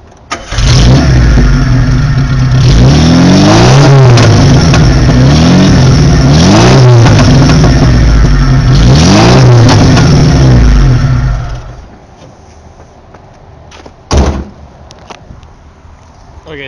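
Car engine with a suspected misfire, revved repeatedly in loud surging bursts with uneven popping, then cut off into near silence with one brief knock afterward.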